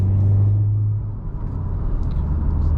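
A 2019 Honda Civic Type R engine blips up to about 4,500 rpm during an automatic rev match, a steady droning hum that eases off midway and carries on as a lower rumble, heard from inside the car.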